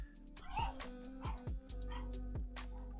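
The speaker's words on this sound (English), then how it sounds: "I don't like the fact y'all can hear my dogs." Several pet dogs bark and yip indoors in a home, a run of sharp, fairly close barks in quick succession with some whimpering between them over a low steady hum.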